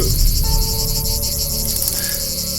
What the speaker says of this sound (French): J'ai vu ces cigales.